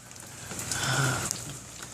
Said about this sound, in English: It's been raining since yesterday.